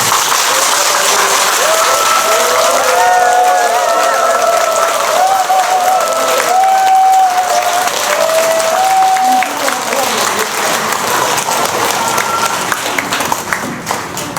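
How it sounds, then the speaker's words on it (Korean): Sustained, dense applause from a temple audience welcoming a visiting Buddhist monk, Venerable Wonyoung, at a Baekjung dharma service at Yaksasa temple on Manwolsan. It stays loud and steady throughout, with some voices and tonal sounds over the clapping. "박수 한번 크게 해주세요"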